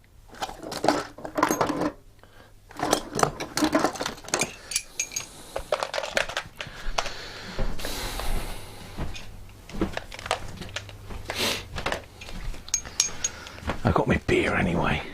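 Long-reach metal sockets clink and rattle as they are handled and sorted, with frequent bright metallic clinks and knocks over a low hum and a little talk.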